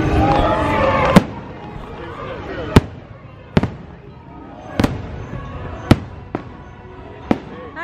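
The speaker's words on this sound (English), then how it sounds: "Fireworks are starting." Fireworks bursting over Disney World during Mickey's Very Merry Christmas Party, with six or seven sharp booms spaced a second or so apart, each followed by a crackling tail, and crowd murmur and nearby talk underneath.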